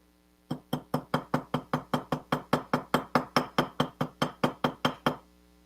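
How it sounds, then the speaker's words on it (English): A hammer strikes pieces of turquoise stone to flatten them for inlay work, about nineteen evenly spaced, crisp taps in a quick, steady rhythm, close and clear with no talking. "I'm going to hammer a little bit more, some turquoise, just to get some flatter pieces"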